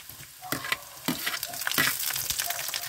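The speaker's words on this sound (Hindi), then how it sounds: "अब इसमें हम टमाटर डालेंगे" Tomatoes tipped into a pan of fried onions for a carrot and pea curry, giving a close, steady sizzle broken by several sharp stirring scrapes and clatters, with no voices.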